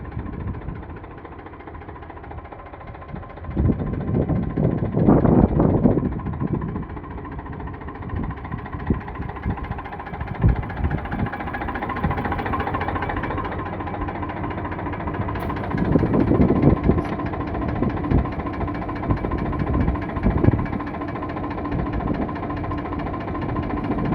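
An Eicher 485 tractor engine idles steadily with a low, chugging rumble throughout, rising slightly louder at moments, with no talking.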